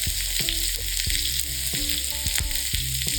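Onions and peppers sizzle loudly as they hit a hot pan for Philly cheesesteak sliders, a dense crackling hiss with repeated scraping and clattering of a spatula, close up and without voices.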